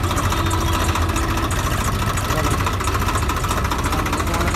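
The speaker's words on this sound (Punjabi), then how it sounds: "ਹੋਰ ਤੂੰ ਟਰੈਕਟਰ ਕਢਵਾਉਣਾ ਮਿੱਤਰੋ ਟਰੈਕਟਰ ਕੱਢ ਗਿਆ" A tractor engine runs steadily close by, with a loud, rhythmic low chugging that continues without a break throughout.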